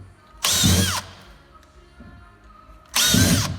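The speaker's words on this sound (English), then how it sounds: "what I usually do is I'll drill holes in the corners" A power drill bores holes in the corners of a base shell while a Leeson drive is installed: two loud, sustained whirring bursts close by, separated by a quieter pause.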